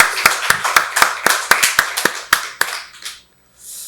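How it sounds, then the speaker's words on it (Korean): Congregation clapping during a Sunday church service, a run of sharp, evenly spaced claps in a steady rhythm that thins out and stops, followed by a brief soft wash of noise. "박수로 하나님께 영광 돌리겠습니다."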